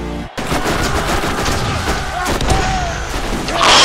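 Rapid gunfire in Borderlands gameplay, loud bursts of automatic shots crackling almost nonstop after a brief pause near the start, with a voice talking in the background.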